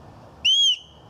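A homemade high-volume whistle, made so the fingertips are replaced by its own walls, gives one loud, piercing blast of about a third of a second, close and alone.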